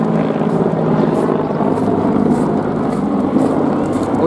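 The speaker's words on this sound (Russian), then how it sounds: "Вертолет летит." A helicopter flies overhead in heavy rain: a loud, steady rotor drone with a rhythmic chopping pulse, heavy and continuous throughout, with rain hiss underneath.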